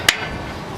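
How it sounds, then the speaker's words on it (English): Two sharp metallic hammer strikes ring out against a stuck kingpin bolt on a 1926-1934 vehicle, spaced about three quarters of a second apart, close and loud over a quiet background. "In this case, I'm gonna use the hammer."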